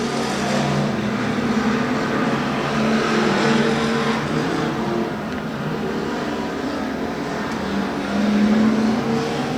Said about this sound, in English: Kelly Lockey rounds turn 3 and 4, putting another lap in the books.